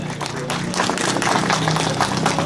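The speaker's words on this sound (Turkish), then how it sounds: "olsun diyerek alkışlıyor efendim." An audience claps at the grand opening of the Efor Spor sports venue in Erdemli, Mersin, a dense burst of applause that swells and holds steady through the moment.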